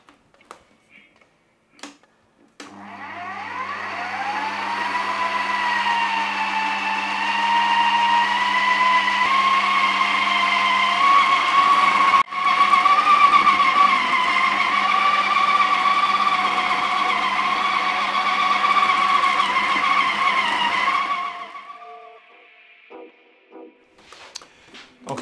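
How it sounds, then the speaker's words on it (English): A food processor spins vegan Beef Wellington dough made with gluten and beetroot, starting with a sharp whir and holding a loud, steady motor whine for about eighteen seconds before it cuts off. "Next, we're gonna use a food processor just to blend it all together"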